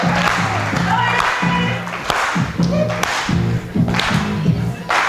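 Audience applause at a church sermon rings out loudly with rhythmic clapping throughout, mixed with a steady musical or crowd backdrop and occasional thumps.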